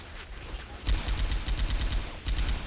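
Light machine gun fire in the video game Left 4 Dead 2, rapid sustained bursts with a brief gap, loud and close.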